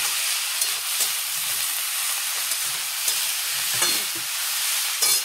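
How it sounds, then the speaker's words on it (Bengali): Cabbage frying in a pan with turmeric and salt, giving a loud, steady sizzle close up, with a few soft stirring clatters now and then. "এবার দেব বাঁধাকপিগুলো"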